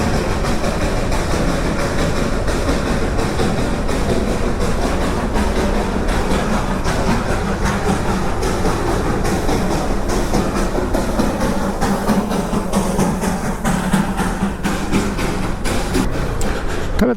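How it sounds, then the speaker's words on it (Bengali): The Darjeeling toy train passes close by with a loud, continuous rumble and rhythmic clattering of wheels over rail joints, steady throughout, with no talk. "মোস্ট প্রবাবলি ট্রেন আসছে"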